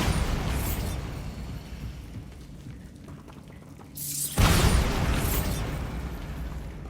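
A Bombarda spell in Hogwarts Legacy erupts as a loud, booming blast midway through, following a rumbling buildup, with a broad crackling roar that lingers afterward.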